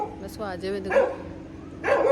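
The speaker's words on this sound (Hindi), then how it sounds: "कुत्ते भौंक रहे हैं।" Dogs bark outside a jeweller's shop in Jaipur before dawn, a couple of loud yips and barks close by while a person talks over them.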